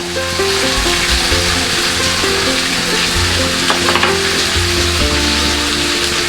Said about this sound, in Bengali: দিয়ে তোমার ভালো করে ভাজতে হবে নাহলে কাঁচা গন্ধটা থেকে যাবে